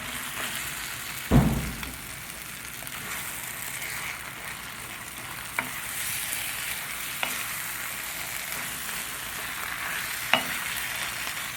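Masala being worked into quail frying in a pan for a kada roast, giving a continuous soft sizzle with a few sharp scrapes and taps spaced seconds apart, close by and without talk.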